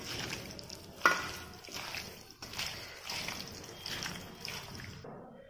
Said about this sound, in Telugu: ఇప్పుడు అన్నీ బాగా మిక్స్ చేసుకోవాలండి.